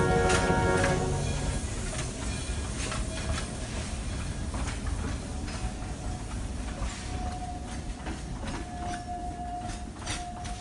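A train rolls along at night with a continuous low rumble, steady hiss and repeated wheel clicks and clanks, heard from nearby over several seconds.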